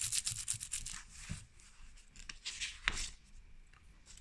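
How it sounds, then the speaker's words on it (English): Crinkly material in a handmade junk journal rustles and scrunches close up in short, uneven bursts as it is handled, with quieter gaps between the louder crackles. "I used some crinkly material here so you can hear it"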